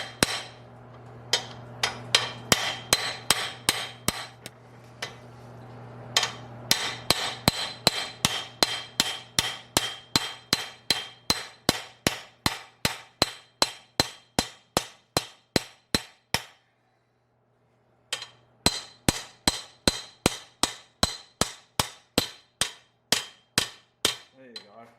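Steady hammer blows drive a pinion bearing race into a Mercedes W109 differential housing, dozens of sharp metallic strikes in a fast even rhythm, close and loud, with a short pause before the pounding resumes; no talk.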